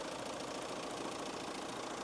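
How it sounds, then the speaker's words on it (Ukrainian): A 2015 Fiat Freemont with a 2.0 diesel engine rated at 125 kW idles with the hood open, giving a quiet, even running hum with a faint diesel clatter and no talking. "І дивіться, друзі, як працює наш двигун."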